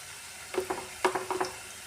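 Cauliflower pieces frying in a pan with spices sizzle in short, close bursts of crackle over a quieter steady hiss.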